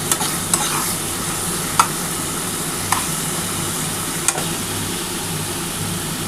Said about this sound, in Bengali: দেখো খুব ভালোভাবে এটা কষিয়ে নিতে হবে, কারণ পরে টমেটোটা দিয়েছি তো টমেটোর একটা গন্ধ ছাড়ে